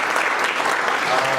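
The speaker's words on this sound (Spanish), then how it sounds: "Un aplauso." Audience applause at a panel on national dialogue for peace, a dense burst of clapping filling the whole short moment, loud and close.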